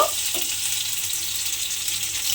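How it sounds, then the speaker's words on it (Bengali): Chopped tomato frying in a pan with salt while being stirred, giving a close, continuous bright sizzle with a brief scrape at the start and no voices. "নুনটা দিয়ে একটু আমি টমেটোটাকে নাড়াচাড়া করে নেব যাতে টমেটোটা খুব ভালোভাবে গলে যায়"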